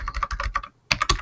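Close, brisk computer keyboard typing: a run of quick clicky keystrokes, a short pause, then another burst of several keys, heard alone with no talk.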